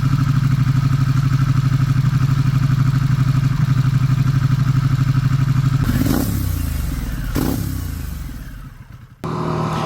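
Yamaha WR250R motorcycle being ridden, a loud, close, steady engine drone with a rhythmic pulse, then two rising and falling revs with a scraping clatter before the sound briefly dips.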